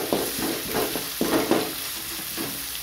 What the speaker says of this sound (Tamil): இஞ்சி பூண்டு போட்டு நல்லா வதக்கி வச்சு